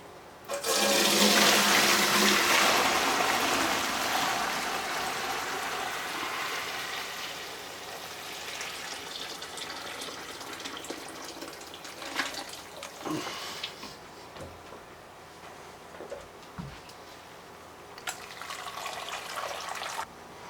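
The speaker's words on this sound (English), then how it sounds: "After we strained it one time through just a strainer, then we put some cheesecloth on there and strain it through it one more time." Homemade chicken broth pours through a strainer in a loud, rushing splash that tapers into trickles and intermittent drips and clinks, with no speech.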